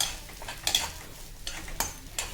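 Grated coconut sautéing in hot coconut oil in a pan, with a low sizzle and several short scraping stirs of a spoon against the pan.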